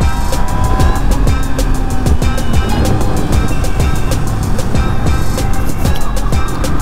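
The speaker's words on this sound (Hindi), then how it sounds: "अब ना गाड़ी भाग रही है" A car drives along with its rear tyre overinflated, giving a loud, close, continuous road and engine roar broken by a quick series of sharp rhythmic thumps and rattles as it bounces over the surface.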